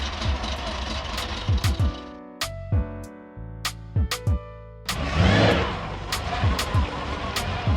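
An old Chevy engine, long unstarted and running on dirty gas after a battery hookup, runs rough close by, with a string of sharp bangs and pops, uneven surges and a louder roaring burst near the end.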